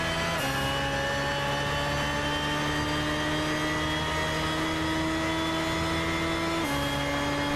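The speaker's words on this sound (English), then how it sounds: "Just sounds like a turbo should sound." A Honda turbo engine in Gran Turismo 6 sustains a loud, steady high-rev drone with a whining turbo tone, shifting gears twice with short drops in pitch, and no voices over it.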